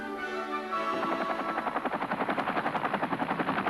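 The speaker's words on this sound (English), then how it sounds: "The United States Army's array of helicopter power has often been described as the world's third largest air force." A US Army military helicopter is heard close and loud, its rotor blades building into a fast, rhythmic chopping beat that grows steadily more distinct.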